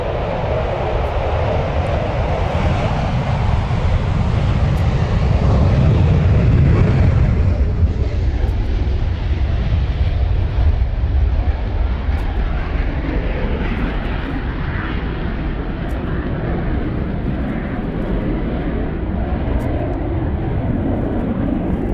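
A Eurofighter Typhoon jet at RAF Coningsby runs along the runway with a loud, sustained engine roar that peaks early and then slowly fades as it moves away.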